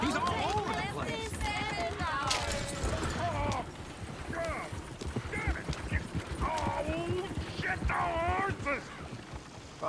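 Horse hooves clop steadily in Red Dead Redemption 2, a close rhythmic trot running under almost constant overlapping speech.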